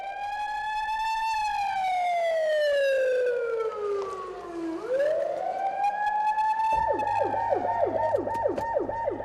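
A loud blasting warning siren inside a tunnel under construction in Inje wails down in pitch, dips, rises again, then shifts into a rapid repeating yelp that continues to the end.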